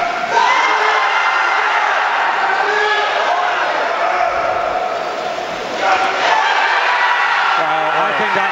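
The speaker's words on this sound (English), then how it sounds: "the Uzbeks here are really happy too. They got quite a cheering section going behind us" Uzbek supporters cheer and shout from a crowd at the 2010 World Weightlifting Championships, 105 kg class. The roar is loud and sustained, with shouts and whoops rising and falling throughout.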